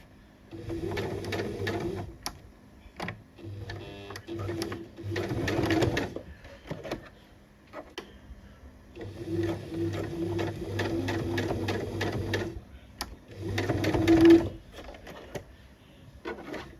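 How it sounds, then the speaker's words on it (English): A sewing machine stitches down the seam of a cami top in close, steady bursts of rapid whirring, pausing briefly between runs, with no talk over it. "I'll just sew this down the seam."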